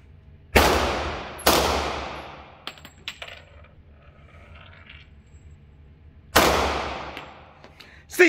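Handgun shots at an outdoor protection-academy training range: three loud, sharp reports with long ringing decays, two close together and one a few seconds later, plus faint metallic clinks between them.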